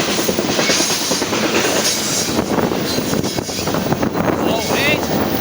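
A northbound BNSF freight train hauling Norfolk Southern crude oil tank cars rolls past the Steilacoom ferry dock in Washington, a loud, steady rumble with rhythmic wheel clatter and brief high wheel squeals throughout.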